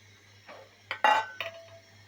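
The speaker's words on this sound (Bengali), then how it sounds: "এখন আমি এখানে ডিম ভেজে রাখা ডিম দিয়ে দিচ্ছি।" Fried eggs being added to a simmering potato and cauliflower curry in a pot, heard as a few short close clinks and knocks of a utensil against the metal pot over a low steady hum.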